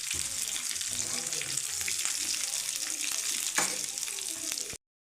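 Fried fish pieces go into a hot pan with chilies and curry leaves, giving a loud continuous sizzle with stirring scrapes and a brief louder crackle near the end before it cuts off.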